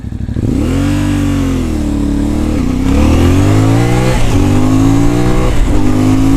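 A CFMoto 450 MT motorcycle engine revs loudly and up close, its exhaust note rising and falling through several throttle blips with a rough, throaty rumble.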